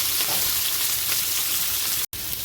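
Pieces of fish fry in hot oil in a pan, giving a steady, close, dense sizzle throughout, broken only by a very brief cut near the end.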